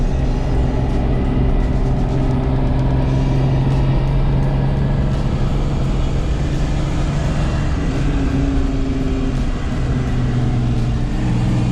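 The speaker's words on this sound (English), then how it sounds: "let's go for a ride and see what it's really like to daily drive a 1-ton Cherokee" A one-ton Jeep Cherokee on 40-inch tires rumbles along the road with a loud, steady low drone of engine and tire noise, swelling slightly as it pulls and holding without a break throughout.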